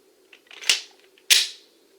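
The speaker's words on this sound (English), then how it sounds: "Now, load the firearm." A handgun with its action locked to the rear is loaded during dry-fire practice, producing two crisp metallic clacks about half a second apart, close and fairly loud against a faint hum.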